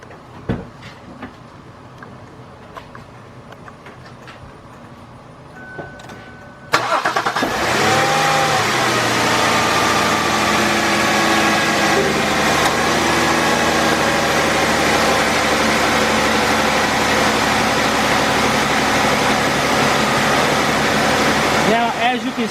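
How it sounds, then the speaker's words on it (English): A 2001 Lincoln LS engine starts up and settles into a steady idle with the air conditioning running, a loud continuous hum and blower roar that stays unbroken after quieter handling noises at the start. "let me go start the car up and cut the AC on"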